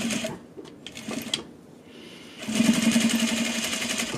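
A sewing machine stitches a zipper into a jacket, a quick rapid run of stitching bursting in after a few soft handling noises.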